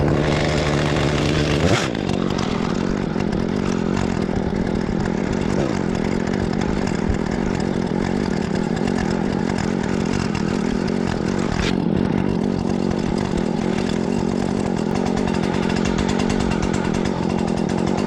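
A Husqvarna 120 Mark III chainsaw starts up loud and close, then runs steadily at a high, buzzing pitch for the rest of the stretch, with a brief surge near the middle and no talking.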